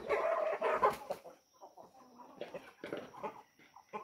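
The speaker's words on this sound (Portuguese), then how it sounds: "E a galinha aí, ó." Chickens settling to roost in a mountain-country yard, giving soft close clucks and murmurs, louder in a burst at first and then quieter scattered calls.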